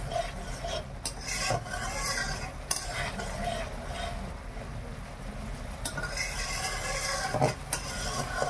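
Spiced pond snail curry fries in a pan in a village kitchen with onion and tomato, sizzling steadily. A spoon stirs and scrapes against the pan in repeated close strokes, with no talking.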